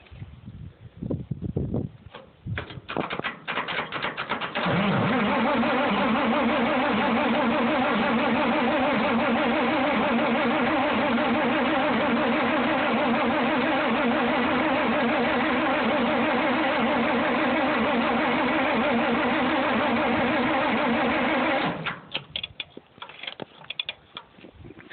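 Farmall 460 tractor making a hard cold start: sputtering cranking catches after a few seconds, then the engine runs loud and steady for a long stretch before cutting back to rough, uneven firing.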